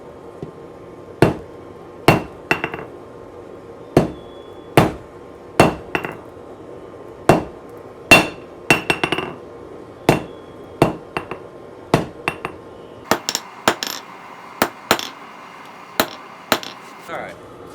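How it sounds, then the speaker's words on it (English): A hammer forges a point on 1/2 inch round mild steel at an anvil. Close, ringing blows land roughly once a second, about twenty strikes with a few quicker clusters, each one sharp with a metallic ring. "Alright, forge a sharp point."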